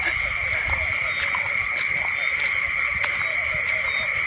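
Frogs croak steadily through a night outdoors while people hunt them by a garden of old jackfruit trees, with a continuous insect drone and brief pulses of chorus; voices talk intermittently.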